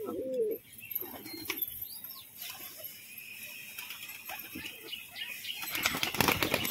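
Pigeons taking off and flapping their wings in quick, irregular bursts, with a few soft coos and chirps mixed in, close by and loud.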